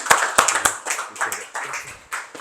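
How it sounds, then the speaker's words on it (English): Audience at a short-term rental investing seminar clapping for a speaker about to take the stage, a scattered round of sharp hand claps with uneven rhythm, close and fairly loud, ending in a few trailing claps. "So big round of applause for Evan"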